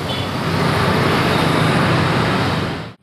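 Road noise inside a 2005 Toyota Kijang Innova G 2.0 manual with no sound insulation: a loud, steady broadband rumble of tyres and engine filling the cabin, ending abruptly.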